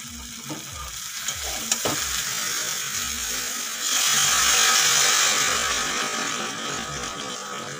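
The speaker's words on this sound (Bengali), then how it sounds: "এখন দিয়ে দেবো গরম জল" Hot water poured onto fried vegetables for a vegetarian sabji in a pan, the steady sizzle and stirring swelling sharply partway through, with faint music from next door in the background.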